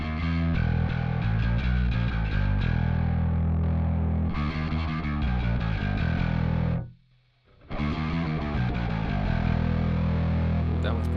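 Bass guitar through a Darkglass Adam distortion pedal, heavy saturated chugging riffs played first dry and then with a distortion mode engaged, with a brief silent gap between passages; loud and close.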